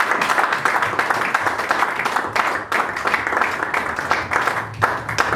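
A church congregation claps and applauds during a service, dense rhythmic clapping that carries on steadily and close throughout, with faint voices mixed underneath.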